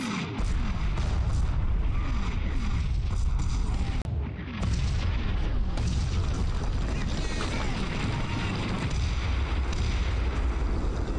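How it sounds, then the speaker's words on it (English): German mortar rounds burst in a Combat Mission Battle for Normandy battle, a dense run of heavy booms and rumbling blasts rolling over one another across the whole stretch, loud and continuous with no talking. "American GIs take cover as more German mortars make their way to Earth."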